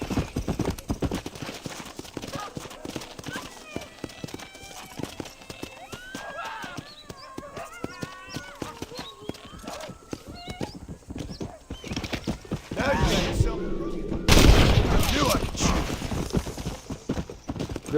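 Horse hooves clip-clop steadily in a Red Dead Redemption game world, a continuous trotting rhythm with an occasional whinny and a brief louder burst near the end, faint talk underneath.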